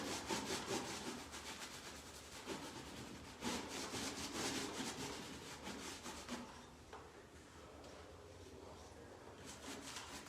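A paintbrush loads paint into the corner of a textured ceiling, with close, quiet, repeated scratchy brush strokes in an uneven rhythm.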